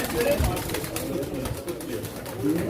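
Pigeons at a Çorum pigeon auction coo in a low, continuous murmur that fills the space, with a crowd's voices and auction chatter mixed in around them.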